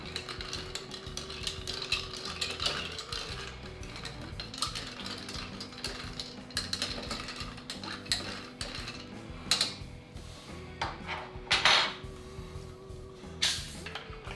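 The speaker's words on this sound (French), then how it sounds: "Et on va mélanger assez longtemps de façon à bien refroidir le bazar." A sake cocktail stirred for a long time over ice to chill it, with steady metallic clinks and rattles of a spoon against ice and glass, fairly close, plus a few sharper knocks.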